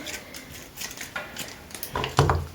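A knife taps and crunches through a crisp bell pepper on a cutting board, slicing thin strips with several quick irregular cuts nearby, getting louder toward the end.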